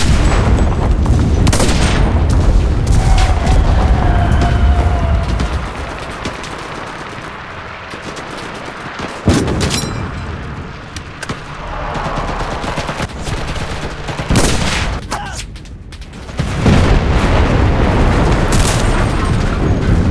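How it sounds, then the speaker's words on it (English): Sustained loud battle noise from the World War II game Enlisted, heavy booms and dense gunfire under a constant roar, with several sharp impacts standing out across the stretch. "Artillery! Fire at the square!"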